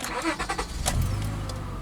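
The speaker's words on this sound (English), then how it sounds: "Classic Honda starter." Starter on a Honda TL car cranks the engine; a close, low, steady mechanical churn sets in about halfway through and holds to the end, with no voices.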